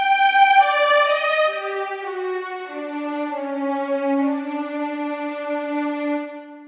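Legato violins from a sampled orchestra library, a solo line gliding smoothly from higher notes down to lower sustained ones, clear and moderately soft with no talking.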